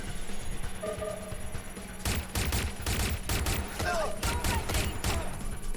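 Gunfire from shooting in the video game Watch Dogs Legion, a quiet opening followed by repeated loud bursts of rapid shots and thuds over the second half, with a person talking over the action.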